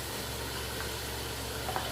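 Chopped onions fry steadily in hot oil in a pan on a stove as part of making beef nihari, giving off a soft, even hiss and a couple of faint ticks.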